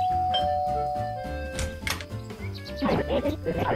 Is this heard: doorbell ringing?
yes